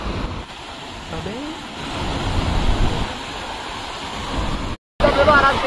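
A river flows with a continuous rushing, roaring wash of water, loud and steady throughout, with a brief dropout near the end.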